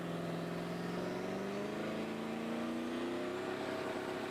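Snowmobile drag racers at the 2017 Snowbird Outlaw Nationals build boost at the start line, a loud, steady engine drone climbing slowly in pitch as the revs rise, with no voices over it.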